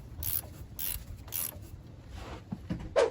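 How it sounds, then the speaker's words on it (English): A ratcheting wrench works on 18mm strut nuts on a 2007 GMC Sierra, making several short, sharp clicking bursts spaced out, fairly close and moderately quiet. "These ratcheting wrenches are so handy"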